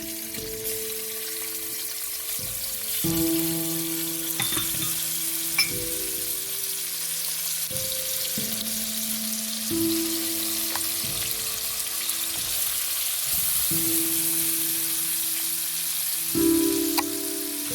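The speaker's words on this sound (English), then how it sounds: "So I'm gonna fry the onion until it's golden brown color." About two cups of chopped onion frying in leftover oil in a pan for a fish curry gravy, a soft continuous sizzle beneath steady background music, with no talking.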